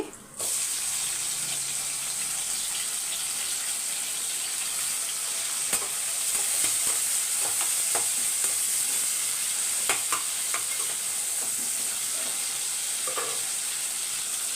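Tomato frying in a pan with curry leaves makes a steady, close sizzle throughout, with scattered stirring clicks and scrapes over the continuous hiss.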